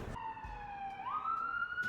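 A police siren wails on a London city street in a steady, rising and falling tone, fairly distant and quiet, with faint street noise underneath.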